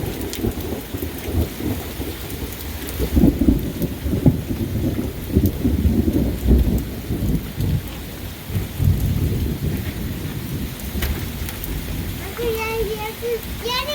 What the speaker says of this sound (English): so some really nice thunder there.